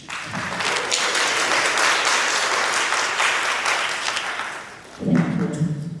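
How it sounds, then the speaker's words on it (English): Sustained applause from a congregation at an annual mass and reception honoring the choir masters, a dense steady wash of clapping that fades before voices and a few claps return at the end. "our choir masters need another round of applause"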